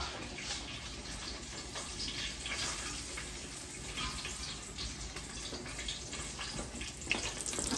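Hot grease drippings from a pan of hamburgers are poured into a cup, making a close, continuous trickling hiss that runs unbroken.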